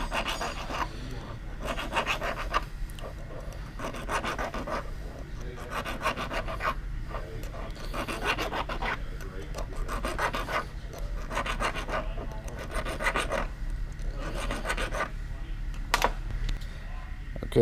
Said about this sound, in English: I'm actually using this little rat tail file and cleaning a little machining burr out of it too.